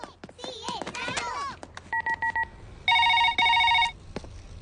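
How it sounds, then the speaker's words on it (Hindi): A telephone sounds with a few short electronic beeps, then two loud sustained ringing bursts, after a moment of chatter and voices in a room. "ये कॉल मेरे लिए है ना?"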